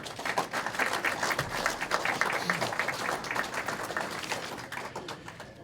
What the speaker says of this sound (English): How about a round of applause for our sponsors?